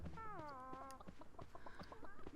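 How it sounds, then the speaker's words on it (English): A chicken in the video game Grabbed by the Ghoulies gives a drawn-out squawk followed by quick clucks, loud and close over game sound. "And the chicken went flying."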